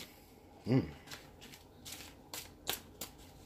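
A few soft papery riffles and flicks of tarot cards being shuffled, close and quiet, with light taps in between.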